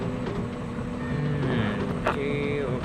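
A bulldozer in the Construction Simulator 3 video game pushes earth to cut a ramp down, its engine a steady low droning rumble throughout, with a faint higher whine rising and falling.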